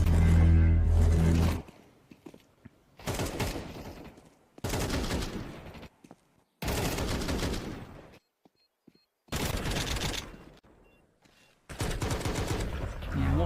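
Gunfire in a competitive Counter-Strike match: loud bursts of rapid shots, about six separate volleys of one to two seconds each, broken by short near-silent pauses.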